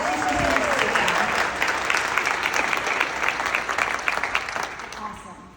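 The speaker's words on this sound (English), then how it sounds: "Please give her a round of applause for she's doing a great job." Audience applause at a legal-profession conference session, a dense steady clapping from a large room that swells briefly and then thins out, with faint voices underneath.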